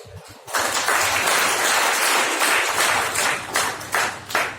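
An audience at a Mahatma Phule Jayanti event breaks into dense clapping after a brief quiet start, loud and sustained applause with a few stronger surges near the end.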